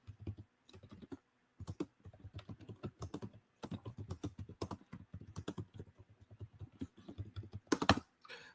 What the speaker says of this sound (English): I'm going to quickly type up any game today.